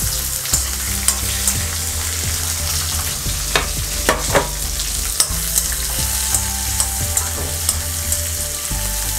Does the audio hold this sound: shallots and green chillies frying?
yes